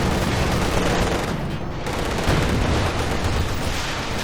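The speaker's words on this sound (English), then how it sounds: "Heavy mortar strike from the artillery officer. It's incendiary here" An incendiary heavy mortar strike called in by an artillery officer in Company of Heroes 2 lands as a continuous, loud rattle of blasts and bursts, with a brief lull midway before the barrage resumes.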